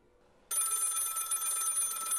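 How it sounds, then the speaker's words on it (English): A telephone bell rings in a hotel scene during a staged reading, starting abruptly after a near-silent moment and continuing as a loud, steady, bright trill with no voice over it. "The phone rings."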